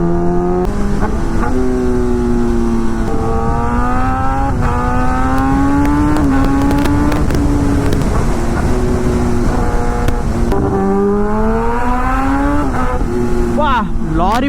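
A Kawasaki ZX10R or BMW S1000RR superbike engine roars continuously close by as it rides on the road, its high, harmonic whine rising and falling through throttle changes and gear shifts, loud throughout.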